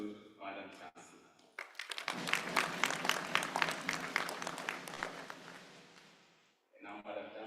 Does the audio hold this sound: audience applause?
yes